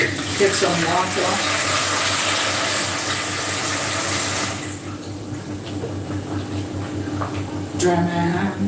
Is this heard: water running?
yes